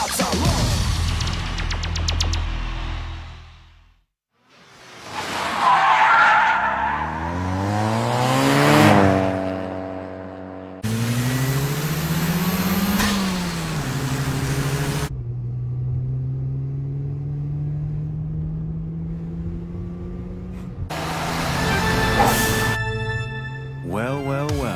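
A Nissan Skyline R32 GT-R racing on a mountain road in the Initial D anime, with engines rising and falling through gear changes, roaring in close passes and cutting between shots, with a short silent gap.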